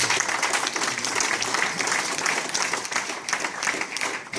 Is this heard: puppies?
no